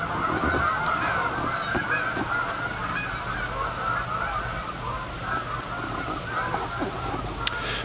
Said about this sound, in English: Oh, here go the geese.